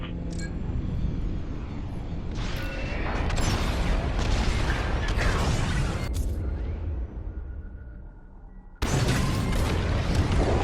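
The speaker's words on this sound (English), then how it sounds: "It's bombs away." Bombs exploding in the space combat game Star Wars Squadrons, a loud sustained rumble of heavy blasts layered with bursts and crackles, briefly fading before a fresh, sharp explosion hits near the end.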